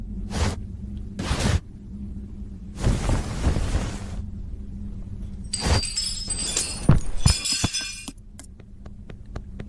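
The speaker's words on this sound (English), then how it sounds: "Nobody in the house hear all that glass?" Glass shatters repeatedly in a horror video game, sharp crashing bursts followed by tinkling shards and clinks, loud and close, with no voices.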